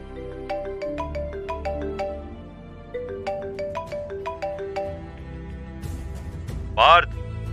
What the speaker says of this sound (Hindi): तभी पार्थ का फोन बजने लगा।